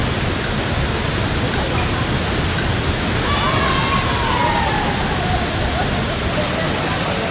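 Khlong Chao waterfall on Koh Kood, Thailand, pours with a steady, dense broadband roar of rushing water that fills the whole scene without pause.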